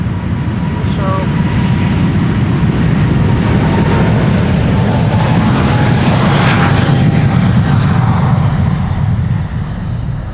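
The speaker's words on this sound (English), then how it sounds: "After that, Delta Airlines Flight 163 to Minneapolis." Delta Airlines jet airliner departing Amsterdam Schiphol for Minneapolis sends a loud, sustained engine roar that swells slightly midway and holds strongly throughout, with a voice heard over it.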